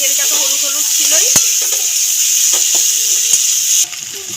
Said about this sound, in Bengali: ভাজার মধ্যে দিয়ে দেবো নুন, নেড়ে চেড়ে ভাজতে থাকবো।